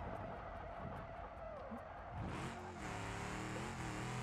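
A car engine in BeamMP revs loudly after a missed gear shift, the pitch swinging up and down in a sustained, strained roar before settling into a steadier climbing drone.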